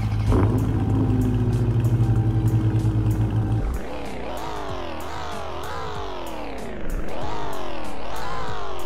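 In a Roblox driving game, a Dodge Challenger SRT's supercharged 6.2-liter Hemi V8 idles with a loud steady drone, then revs up through rising sweeps with shift drops, roaring close and alone without talk.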